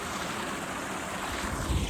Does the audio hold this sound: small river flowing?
yes